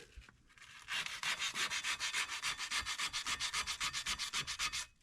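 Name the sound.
sanding Mercedes W124 brake parts with sandpaper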